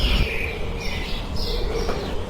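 A cartoon crow mimics a sparrow's call, giving a few thin, rising chirps and tweets over a dense, steady outdoor background, fairly close and without speech.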